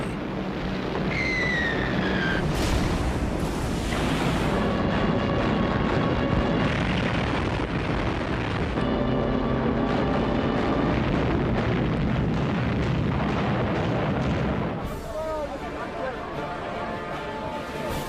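World War II combat aircraft roar and dive amid battle noise, engines whining and droning with loud rumbling blasts throughout and a sharp shift partway through, set under a background score.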